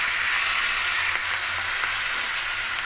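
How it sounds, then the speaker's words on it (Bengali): Water poured into a hot tempering of spices and asafoetida for Khaman Dhokla, giving a steady, loud, hissing sizzle that carries on evenly throughout. "এই যে ফোড়নটা করেছি এর মধ্যে জলটা যে বানালাম দিয়ে দেবো"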